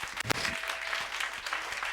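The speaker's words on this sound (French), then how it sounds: "Donnons ensemble une forte acclamation à Jésus-Christ." A church congregation claps steadily indoors, dense applause continuing throughout with a few sharper claps standing out.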